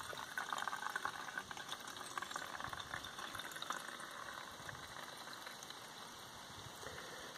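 Fuel is poured into the tank of a Ryobi BP42 leaf blower without a proper spout, making a faint, continuous trickling splash that lasts several seconds.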